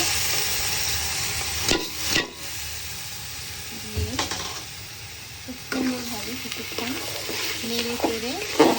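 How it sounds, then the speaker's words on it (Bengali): Rice frying in oil with onion and garlic for pulao, a soft sizzle broken by a few scraping stirs, with a voice talking over it in the second half. "এটা ভেজে নেব"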